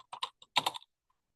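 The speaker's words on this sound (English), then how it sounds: "then create and then type in your client's name" Quick typing on a computer keyboard, a short burst of soft clicking keystrokes in two small clusters, close and faint, with no voices.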